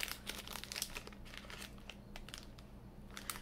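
Asian snack packaging crinkles and crackles in close, continuous bursts as it is pulled open, with no one talking.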